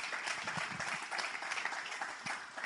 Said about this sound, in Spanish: Dale un fuerte aplauso